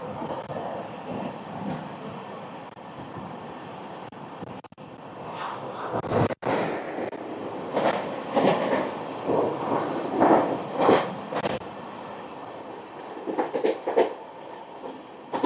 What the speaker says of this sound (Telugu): ట్రైన్ వచ్చేసరికి 110 స్పీడ్లో ఉంది